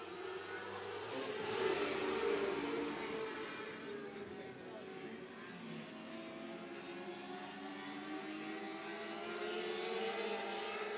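Race cars at 105 Speedway roar off under the green flag, engines droning and revving together in a loud, steady rumble that swells early, dips, then builds again, with talk beneath.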